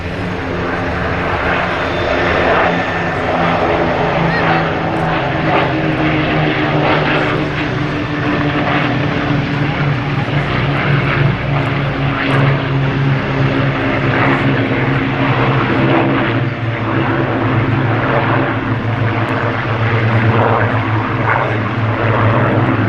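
A seven-crew bomber flies past at the 2013 Cosford Airshow with its wheels down and fighters catching up: a loud, steady, droning propeller engine roar that holds for the whole stretch with no talking.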